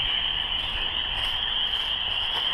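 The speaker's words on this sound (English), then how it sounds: "Don't know if you can see the lake from here, but you certainly can hear the frogs." Spring frogs by a lake keep up a dense, steady high-pitched chorus of trilling calls, continuous and moderately loud with soft background noise beneath.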